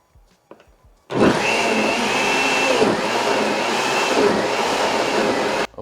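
A blender roars to life after a few soft knocks, blending star fruit (carambola) with a little water, running steadily and loudly for several seconds with a whirring, chopping texture, then cuts off.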